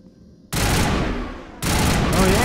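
Weapon fire at a transmitter tower in Mass Effect: a loud sustained burst of rapid shooting starts abruptly after a quiet moment, eases briefly, then resumes just as loud.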